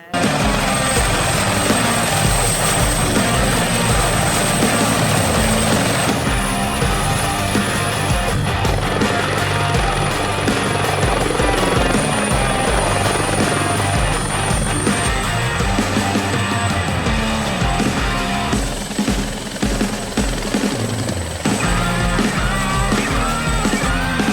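A helicopter flies at the MORS youth camp in Novo mesto, its engine and rotor giving a loud, steady roar that fills the whole stretch without a break.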